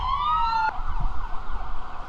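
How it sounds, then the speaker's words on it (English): An emergency vehicle siren wails on a busy road in Amish Country, Pennsylvania. The sweeping tone cuts off abruptly, and moderate traffic rumble carries on underneath. "really noisy day today in Amish Country. Sirens, trucks, cars."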